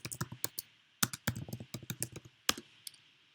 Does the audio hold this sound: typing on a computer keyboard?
yes